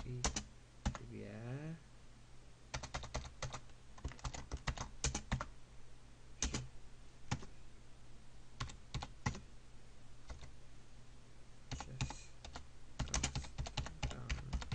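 Typing on a computer keyboard, quick clusters of sharp key clicks with short pauses between bursts, close and fairly quiet, with a brief voice near the start.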